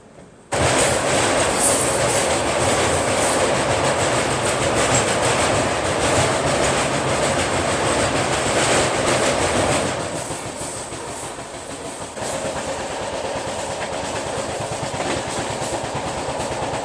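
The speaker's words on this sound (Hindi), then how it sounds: "उसके चक्कर में अपनी दुरंतो एक्सप्रेस अपनी फुल स्पीड पर नहीं चल पा रही है" The New Delhi–Mumbai Duronto Express running on the tracks, with a loud, continuous roar of wheels, rhythmic clickety-clack and faint squeals that ease slightly partway through.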